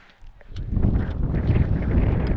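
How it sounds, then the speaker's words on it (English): Wind buffets the microphone at an outdoor softball game as a steady, rumbling low roar that rises after a brief quiet moment and stays strong. "Very windy, it'll affect the ball flight"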